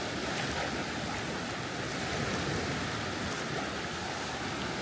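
Waves wash steadily onto a beach in Cambodia, a continuous broadband roar of surf with some wind noise on the microphone, close and fairly loud, with no voices.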